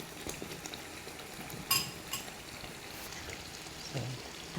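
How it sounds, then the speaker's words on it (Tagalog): Santol, or cotton fruit, cooks in its own oil in a pan and is stirred. A faint steady bubbling runs under scattered scrapes and clinks of a utensil against the pan. "Palalabasin natin siya sa sariling mantika."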